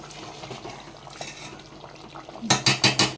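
A spoon stirs brinjal curry with tomatoes in a cooking pan. Soft clinks and a faint simmer come first, then four or five quick, loud scraping strokes against the metal pan near the end.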